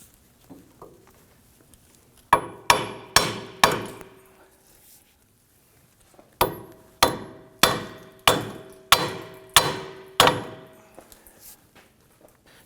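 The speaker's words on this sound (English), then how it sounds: "Now I'm going to use my hammer" A hammer strikes a 2008-2011 Ford Focus steering knuckle to tap it off the strut in two bursts, four sharp blows then seven more, evenly paced and close, with a quiet pause between.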